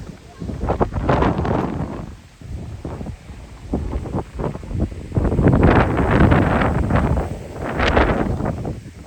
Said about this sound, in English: the wind has certainly picked up again now